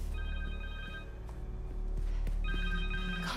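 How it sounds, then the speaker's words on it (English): A cell phone rings in the video game Marvel's Spider-Man 2, a repeated electronic ringtone in short bursts over a low, steady game ambience, with no talk. "Connor's cell phone."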